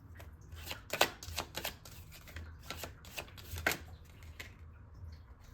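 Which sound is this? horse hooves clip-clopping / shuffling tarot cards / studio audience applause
shuffling tarot cards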